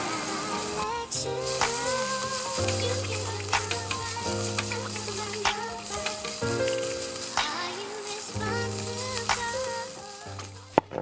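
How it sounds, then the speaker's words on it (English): Collard greens sizzle and crackle in a hot frying pan, a constant hiss with occasional pops, beneath steady background music. "Listen to that sizzle."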